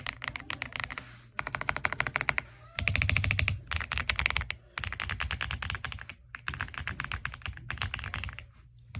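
Typing on an AULA F75 wireless 75% hot-swappable mechanical keyboard with a creamy sound, close and clear: fast bursts of clacky keystrokes separated by short pauses.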